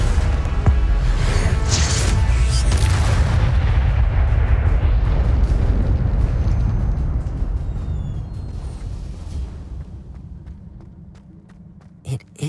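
The Incendio fire spell is cast in the Hogwarts Legacy video game, a loud, roaring burst of flame that rumbles steadily, then slowly dies away, with light footsteps and small clicks near the end.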